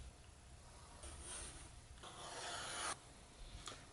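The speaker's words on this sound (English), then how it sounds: "First thing I'm going to do, edge bevel this whole piece." An edge beveler shaving the edge of a leather piece for a double shoulder holster, heard as soft raspy scraping strokes in several short passes, close and fairly quiet.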